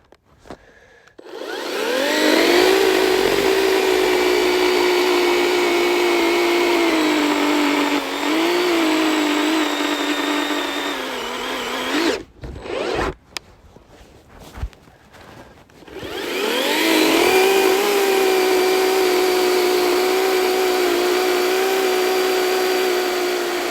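Chainsaw bucking a log into 16-inch firewood lengths in the woods, loud and close, revving and cutting steadily for about ten seconds, dropping to idle with brief knocks, then revving up and cutting again.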